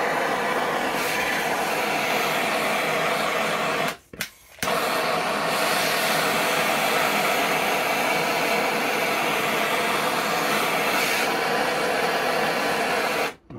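A torch flame heats a seized trim tilt cap on a Yamaha four-stroke outboard, giving a loud, steady, close roar that cuts out briefly twice, with no talking.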